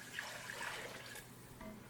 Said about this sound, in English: And then we want to add our chicken stock